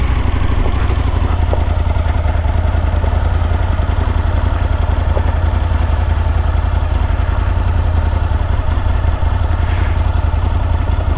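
A motorbike engine runs steadily on a farm, a loud, continuous low rumble and idle-like clatter throughout, with no talk over it.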